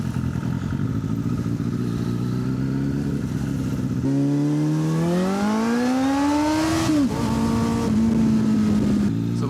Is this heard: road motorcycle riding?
yes